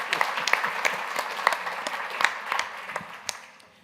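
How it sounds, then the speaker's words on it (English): A symposium audience applauds with a dense patter of many hands clapping, steady at first and gradually tapering off. "Give them a round of applause."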